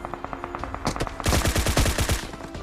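Gunfire in the battle royale game PUBG: rapid bursts of automatic fire, a lighter distant volley followed by a louder, closer sustained burst of evenly spaced shots, with no talking.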